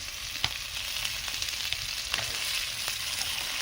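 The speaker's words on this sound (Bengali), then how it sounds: "পেঁয়াজগুলো তো ভাজা হয়ে এসেছে" Onions fry in hot oil, giving a steady, close crackling sizzle with scattered sharper pops, heard alone with no talking.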